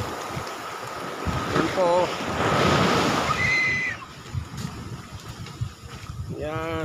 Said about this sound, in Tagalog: Ah, ang lakas ng alon.